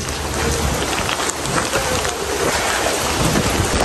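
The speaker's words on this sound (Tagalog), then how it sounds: "Napakalakas po ng ulan." Very heavy rain pouring down in a dense, constant roar, loud and close, with no talking.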